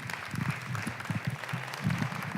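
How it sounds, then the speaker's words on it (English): Polite audience applause for a comedian at a hometown show, a fairly faint, brief patter of clapping beneath a voice talking over it. "Thank you for your polite applause that ended over there."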